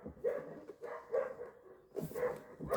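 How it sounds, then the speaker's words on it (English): A dog indoors barks out a window, a series of four moderately faint, evenly spaced barks about a second apart, with no talking. "It's my dog barking out the window."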